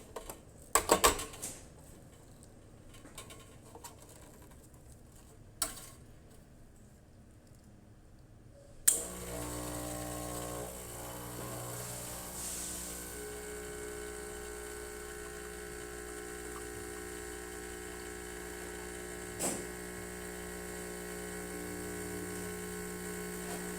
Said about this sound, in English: let's go ahead and make espresso shot to it